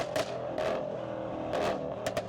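A tuned Mercedes-AMG E63 S engine revs in short bursts, rising and falling several times over a steady rumbling idle.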